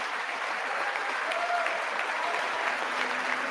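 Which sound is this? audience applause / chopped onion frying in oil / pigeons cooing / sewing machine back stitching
audience applause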